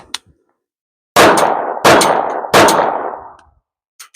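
Three sharp, loud gunshots come from a SIG M17 handgun fitted with a Brouwer polymer frame, fired outdoors at an even pace with short ringing decays, followed by faint metallic clicks.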